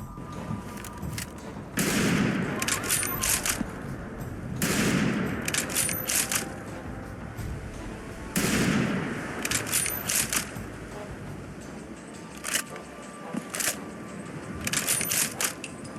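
A European Sniper Rifle modeled on the French FRF2, fired in a Fallout 4 weapon mod: four loud, sharp single shots spaced a few seconds apart, each followed by metallic bolt-working clicks and clinks.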